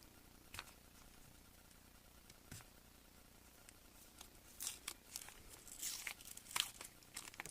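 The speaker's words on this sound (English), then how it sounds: "Take off this tape carefully." Tape peeled carefully off a striper fishing lure pattern, heard as quiet intermittent tearing and crinkling strips, sparse at first and growing busier and slightly louder toward the end, with no talking.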